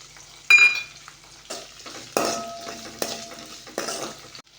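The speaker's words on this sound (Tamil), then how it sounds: "வெங்காயமும் பூண்டும் கொஞ்சம் பொன்னிறமாக வதங்கி வரணும். அது வரைக்கும் நல்லா வதக்கி விடுங்க." Onions and garlic sautéing in oil for a dried-fish curry, a constant close sizzle punctuated by repeated clanks and scrapes of a spoon against the pan, with no voices.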